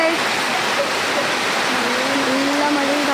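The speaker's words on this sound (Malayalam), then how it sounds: "നല്ല മഴയും കാറ്റും തുടങ്ങിയിരിക്കുകയാണ്." Heavy rain driven by wind roars in a loud, unbroken wash of hissing noise, with a faint voice barely showing underneath.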